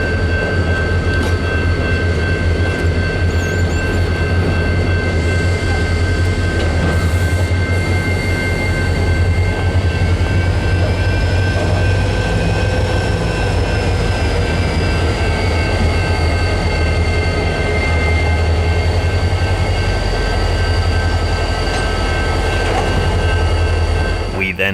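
Norfolk Southern freight train AB09 rumbles through Finley Yard in North Birmingham, Alabama, a loud, sustained low drone with steady wheel and engine noise and faint high-pitched squealing tones over the rail sounds, continuous throughout.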